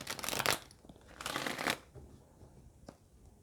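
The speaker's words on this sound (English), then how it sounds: "I'll give it one more shuffle and then we could begin." A deck of tarot cards being shuffled by hand, two dense riffling bursts close to the ear, the second following a short pause, then a faint tap before quiet settles.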